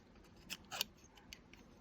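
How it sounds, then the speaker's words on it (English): Scissors snipping through embossed metal foil, a few quiet crisp cuts in quick succession, close up and isolated with no speech. "My scissors want to just slide right through this, but I want to make sure that it's cutting."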